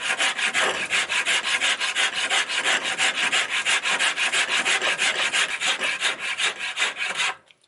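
A rasp or file scrapes along the sides of an oak billet being shaped into an axe handle, making steady, rapid back-and-forth rasping strokes up close before stopping abruptly.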